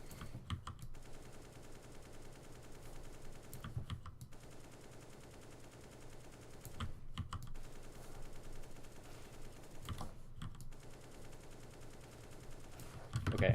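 Rapid gunfire from target shooting in a video game deathmatch warmup, bursts of shots separated by short pauses roughly every three seconds, fairly faint and dry, with keyboard clatter mixed in and no talking.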